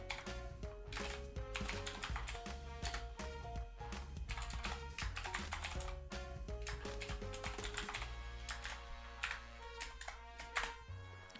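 A computer keyboard clatters in rapid, continuous bursts of keystrokes while code is written, close and moderately quiet, with tonal background music underneath.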